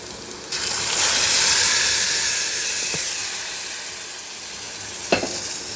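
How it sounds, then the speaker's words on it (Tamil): Onions sautéing in oil in a pan, a loud rushing sizzle that swells and then settles, with a couple of sharp utensil clicks against the pan and no talking. "நல்லா வதக்கிக்கிறோம் வெங்காயத்தை. இப்போ நல்லா வதங்கட்டும்."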